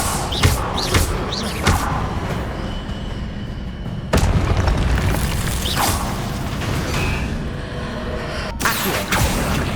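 Spell blasts in the game Hogwarts Legacy: dense, loud booms, thuds and crackling impacts pile up continuously, with sharp bursts recurring throughout and no clear pause.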